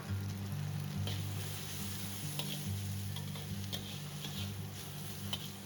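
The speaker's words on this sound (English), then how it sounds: "you put in all the ginger inside the wok. Stir fry them for at least 5 to 8 minutes." Ginger sizzles and fries in sesame oil in a wok, a steady crackling hiss broken by light scraping stirs and occasional ticks, close and alone without talk.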